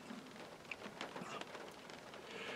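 Steady rain during monsoon season, a dense, even hiss of drops striking surfaces close by, with a few sharper individual drip hits standing out and no voices.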